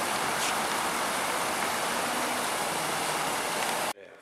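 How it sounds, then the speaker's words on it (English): A waterfall feature at an Arizona apartment complex gives a steady, full rush of falling water close by, which cuts off abruptly near the end. "It's a waterfall right there."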